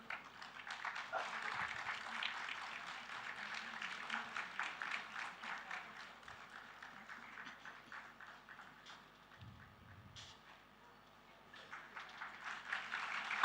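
Sustained audience applause welcoming a student on stage at a school Founders' Day event, many hands clapping steadily at moderate distance, dipping briefly before swelling again.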